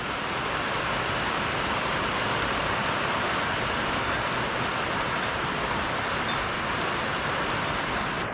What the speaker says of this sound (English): it just will not stop raining